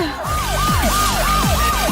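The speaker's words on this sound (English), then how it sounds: "What is that noise? A siren?" A wailing siren rises and falls in repeated sweeps, loud and steady throughout, during a food-colour challenge prank, with a low rumbling bed underneath.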